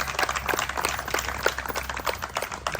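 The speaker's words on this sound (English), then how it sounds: "Let's give her a hand of applause." Scattered applause from an audience honoring the Vice CEO at a LECDA-USA soccer tournament event, steady moderate clapping with uneven individual claps throughout.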